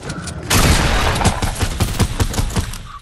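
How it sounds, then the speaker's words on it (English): Gunfire in the video game Fortnite, a dense burst of rapid overlapping shots lasting a few seconds, loud and close, with heavy low thumps and no speech. "I shot him in his face and he wouldn't even die."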